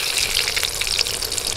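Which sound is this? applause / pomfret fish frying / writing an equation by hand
pomfret fish frying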